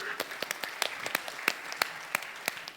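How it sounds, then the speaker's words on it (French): Applause for members of France's 1998 World Cup winning football team at a regional event, scattered sharp claps from a modest crowd, fairly faint and uneven, with a voice speaking over it. "Eh oui, applaudissez-les."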